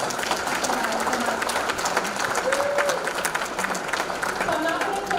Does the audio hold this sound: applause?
yes